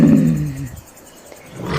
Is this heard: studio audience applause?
no